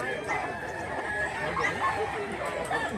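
A bullstag rooster crows amid a busy rural gathering in Mantalungon, Cebu, its call partly masked by continuous nearby voices and crowd chatter.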